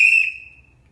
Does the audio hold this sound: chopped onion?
no